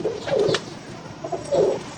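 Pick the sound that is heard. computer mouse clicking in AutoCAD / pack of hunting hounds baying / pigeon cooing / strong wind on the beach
pigeon cooing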